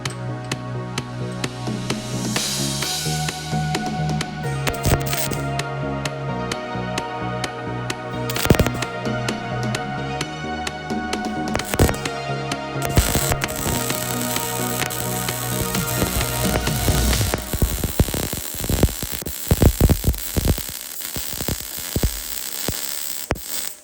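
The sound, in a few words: YESWELDER MP200 Pro welder doing a pull pass weld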